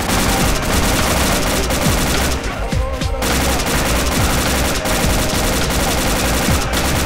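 Machine gun fire in the ArmA 2 video game rattles as loud, continuous rapid bursts with one brief break, close and dense, with distant shots and faint voices mixed in beneath.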